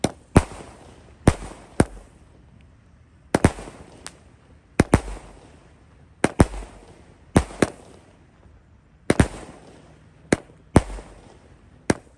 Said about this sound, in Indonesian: Dan ini penutupnya Roman Candle Tornado 16 watt, bosku. Siap kita nyalakan.